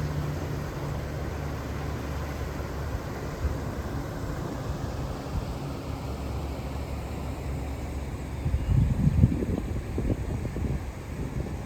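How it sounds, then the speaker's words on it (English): Distant road traffic on the A4 carries across an iced-over canal as a steady, low, far-off rumble mixed with wind, swelling slightly louder near the end; no one speaks. "You can hear the traffic."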